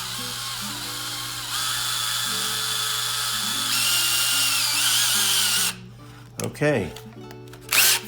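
A small drill whines steadily and loudly for several seconds while working sterling silver wire, its pitch shifting slightly, then stops; someone speaks briefly as it winds down.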